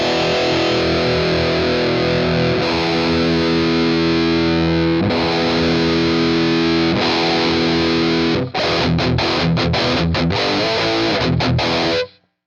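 Electric guitar runs through the ML Sound Lab MIKKO amp plugin with a scooped, hollowed-out distorted tone, sustained chords ringing for several seconds and then choppy palm-muted chugs near the end, loud and alone.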